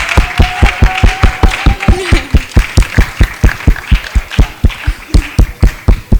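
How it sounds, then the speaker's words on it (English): A summit breakout session audience applauds its panelists with loud, rhythmic clapping that keeps a steady beat throughout, as if many hands are clapping in unison. "let's do another round of applause for our panelists."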